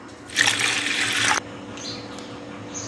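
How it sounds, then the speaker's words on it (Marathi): Water poured onto washed moong dal in a kitchen: a loud, rushing gush lasting about a second that cuts off abruptly, leaving quiet room tone behind. "मूगडाळ आपण आता धुवून घेतलेली आहे त्याच्यामध्ये पाणी घालायचं आहे"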